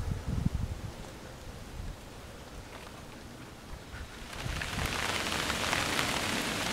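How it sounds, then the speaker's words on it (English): Light rain patters softly amid gusts of wind and rustling leaves at a wild camp in woodland, the hiss building steadily louder toward the end. "we're getting a little tiny light bit of rain coming in now"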